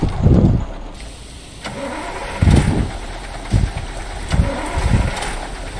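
A lorry engine in the Indian Lorry Simulator game cranks and catches, with several separate low rumbling bursts of starter and revving spread over a few seconds, close and fairly loud over a steady hum.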